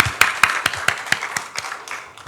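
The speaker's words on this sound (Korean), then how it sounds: "박수하겠습니다." A church congregation claps together at a founding thanksgiving service, a run of sharp, evenly spaced claps that thin out and soften toward the end.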